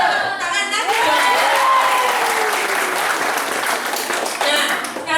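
An audience at a hospital company kick-off event gives sustained, loud applause, steady dense clapping throughout with a voice briefly heard at the start.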